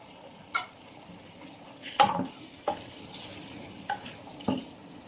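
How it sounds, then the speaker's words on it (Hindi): Diced potato cubes being added and stirred into frying keema in a pan, with a soft background sizzle broken by about six distinct spoon scrapes and knocks spaced unevenly. "तो लास्ट में हम इसमें जो हमने छोटे क्यूब्स में आलू काटे थे वो डाल देंगे।"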